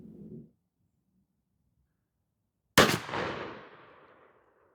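A Remington 11-87 12-gauge shotgun fires a single Herter's 1-1/2 oz #9 TSS shell, giving one sharp, loud blast with a long decaying echo after a brief quiet pause.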